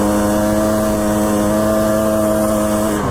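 Steady, loud two-stroke dirt bike engine idling on a mountain trail in Idaho, running on a 32-to-1 full synthetic Maxima oil mix, an even buzzing drone that holds without change and with no talk.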